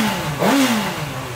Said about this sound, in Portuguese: Vamos dar um acelerão nela aqui, porque essa moto também é bruta